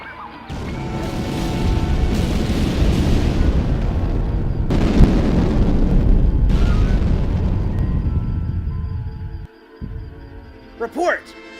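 Heavy, rumbling torpedo explosions in a sci-fi starship audio drama, a loud sustained roar with booming surges that fades out, followed by brief electronic tones.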